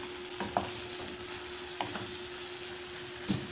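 Chicken pieces for pininyahang manok sizzle and brown in a pan with a steady, fairly quiet frying hiss, broken by a few brief stirring or shifting sounds.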